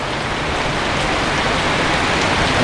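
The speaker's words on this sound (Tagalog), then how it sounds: "Pagpasisyan nyo na po yung patak ng ulan. Medyo maingay niya sa video natin." Steady, dense rain pattering on a surface, loud and continuous throughout with no voices.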